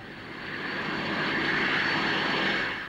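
A helicopter engine roars close by while taking off from and landing on a moving lorry at the 1958 Farnborough Air Show, swelling from a hum to a steady loud drone, then fading slightly at the end.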